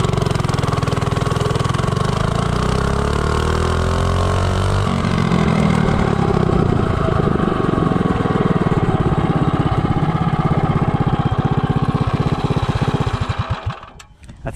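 A Predator Ghost 212 racing engine with a billet flywheel on an Azusa minibike revs loud and steady, rising in pitch as it accelerates from 0 to 30, then cuts off abruptly at the end.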